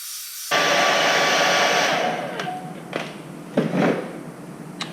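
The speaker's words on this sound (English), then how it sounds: "let's get the hairdryer rolling here" A hair dryer switches on abruptly and blows a loud, steady stream of air to warm adhesive on a 2017 Toyota Tacoma TRD Sport, with a few faint knocks and handling bumps as it is moved around.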